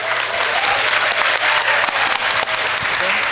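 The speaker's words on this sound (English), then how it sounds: "Big round of applause." An audience at a youth empowerment seminar applauds, dense continuous clapping held loud and steady throughout with no voices over it.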